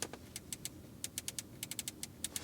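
Buttons on an Audi Q5 climate control panel are pressed in a quick series of crisp, close clicks, roughly a dozen irregular taps over a quiet cabin background.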